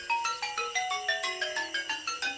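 A telephone ringtone plays a quick descending chime melody of bright repeated electronic notes, loud and alone, in a nursery rhyme setting.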